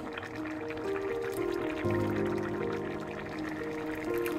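Kewra water is poured into a pot of chicken biryani, giving a close, continuous dripping and liquid trickle over a bubbling, sizzling cooking background, steady throughout at moderate loudness.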